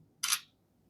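A single short synthetic shutter click from the 50-megapixel rear camera of a Realme C75X phone, a crisp bright snap in an otherwise quiet room.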